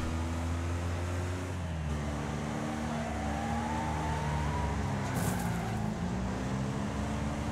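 Several cars race in the Wreckfest game on PS5 career mode, engines droning and revving steadily close up with shifting pitch as traffic crowds the track, loud and continuous with no talking.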